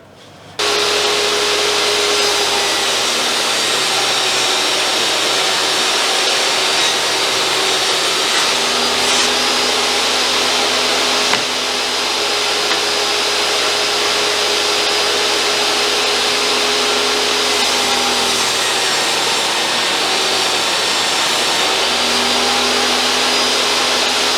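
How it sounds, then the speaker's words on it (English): Power saw cutting patterned plywood into 40mm strips, one loud continuous whining roar held steady for over twenty seconds, close and dense with a faint hum beneath, no talking. "I'm going to cut it into 40mm strips."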